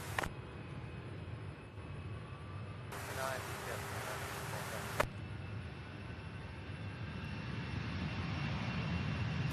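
A Boeing 747 heavy lifts off at Louisville's SDF airport, its jet rumble low and steady at a moderate distance, overlaid by faint radio chatter and brief electronic bursts near the start and middle.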